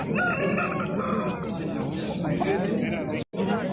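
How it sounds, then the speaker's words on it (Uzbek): A rooster crows at Andijan's poultry bazaar, its drawn-out call rising over a busy crowd of voices and other fowl clucking nearby, with a brief cut near the end. "Bugun Andijon soy bozoriga zo'r xo'rozlar chiqdi"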